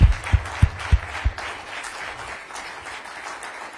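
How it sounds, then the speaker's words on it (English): Audience at a live mental health initiative event with the Secretary gives a round of applause, several heavy claps up close at first and then a fainter, steady spread of clapping. "Let's give the Secretary a round of applause."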